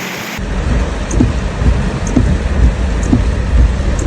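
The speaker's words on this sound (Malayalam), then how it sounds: "കാലവർഷത്തിന്റെ വരവറിയിച്ചുകൊണ്ട് കനത്ത മഴയാണ് സംസ്ഥാനത്ത് പെയ്യുന്നത്" Heavy monsoon rain falls over a flooded town, a loud, dense, steady roar of downpour with low rumbling and a few sharper splashes recurring throughout, no voices.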